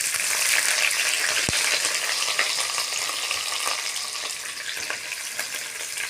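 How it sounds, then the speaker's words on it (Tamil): Onions fry in hot oil with fennel, cinnamon and cardamom, a steady close sizzle with small crackles and a single sharp utensil tap early on, no talking. "நம்ம ஓரளவுக்கு வெங்காயம் வதங்கியிருக்குங்க."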